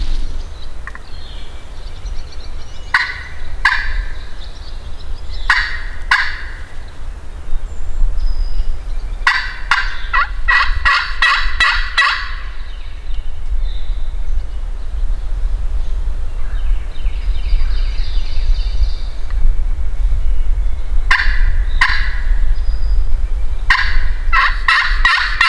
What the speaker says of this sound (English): Two gobblers.